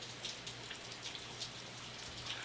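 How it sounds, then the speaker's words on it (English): Steady outdoor rain falls with a soft continuous patter and scattered drop hits close by, with no voices. "Damn, it's all raining out here."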